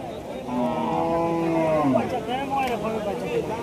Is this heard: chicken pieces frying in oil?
no